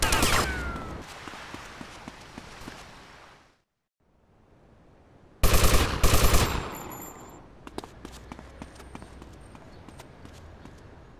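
Gunfire in the GTA: Vice City Stories game, sharp rapid bursts of shots at close range, dropping to near silence before a loud cluster of blasts returns and trails into scattered shots over background ambience.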